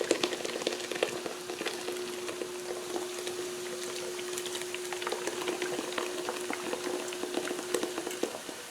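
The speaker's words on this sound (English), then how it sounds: "we're bringing this up to a slight simmer" A beer braising liquid for a beef roast, two bottles' worth, comes up to a gentle simmer in the pot, giving a continuous fine sizzling bubble with a low steady hum underneath and no voices.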